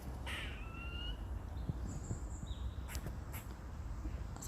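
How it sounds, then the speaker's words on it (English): Squirrel calling outdoors, a few faint, short, harsh chattering cries that could pass for a duck, heard over steady wind and outdoor background noise. "That is a squirrel making that noise."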